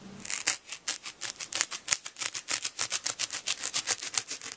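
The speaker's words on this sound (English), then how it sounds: "So I'm going to go cut it right about here." A blade saws through a foam pool noodle in a quick, steady series of close rasping strokes, squeaky and rhythmic, with no talking.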